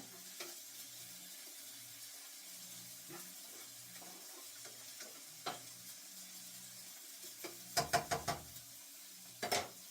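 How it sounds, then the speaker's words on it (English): Onion and garlic are stirred while sautéing in a pot, a soft steady sizzle under quiet scraping strokes, followed by a few sharp clinks of a utensil against the pot. "make sure you're constantly stirring your pot."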